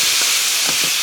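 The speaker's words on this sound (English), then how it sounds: "Dump all that shrimp in there" Shrimp dumped into a hot pan for low country shrimp and grits, giving a loud, close, continuous hissing sizzle with a few soft thumps of the shrimp landing.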